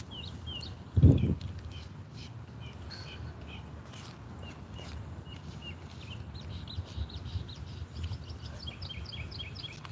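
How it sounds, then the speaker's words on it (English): Birds chirp outdoors in short, scattered calls at moderate distance, with a steady low background and a brief louder thump near the start. "y'all hear the birds chirping?"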